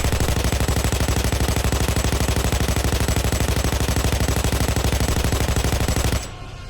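Rapid, evenly spaced automatic gunfire from a Gage Weapon Pack 2 gun in the video game Payday 2, one loud unbroken burst of crisp shots lasting about six seconds before cutting off abruptly.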